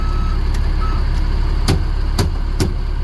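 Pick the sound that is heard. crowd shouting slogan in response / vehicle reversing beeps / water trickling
vehicle reversing beeps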